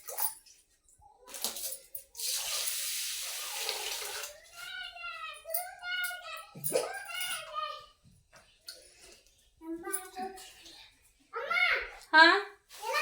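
Rice is washed under a running tap, a broad hiss of flowing water early on, then splashing and rinsing sounds while people talk over it in a Chhattisgarhi home kitchen.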